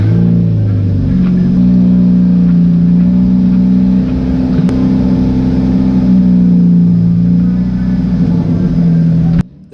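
Stock car engines rev loudly at the start of a race at Cowdenbeath Racewall on a damp track, a close, sustained roar with rising pitch that holds steady before cutting off abruptly at the end.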